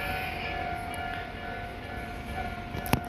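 A Tobu Tojo Line train passes the closed Tokorozawa Kaido level crossing by Kawagoe Station, under an arch bridge; a steady rumble and hum of cars with a sustained ringing tone, and a sharp clank near the end.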